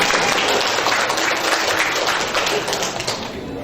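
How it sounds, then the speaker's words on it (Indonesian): Audience applause at an Indonesian campaign event, a dense steady patter of many hands clapping close by for the whole stretch, with faint voices mixed in. "Tepuk tangan sekali lagi."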